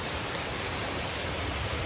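Steady rain pouring down, a dense, even hiss of drops with no pauses and no voices.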